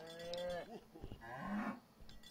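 A cow moos in the video game Suicide Guy: Sleepin' Deeply, a couple of short, faint lowing calls with a bell-like clink, heard close but quiet amid soft game sounds.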